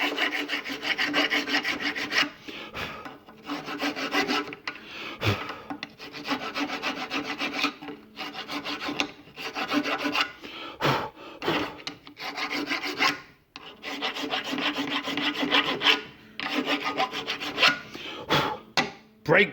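A hand file rasps back and forth across brake components in long repeated strokes, steady and close, pausing briefly between bursts with no talking.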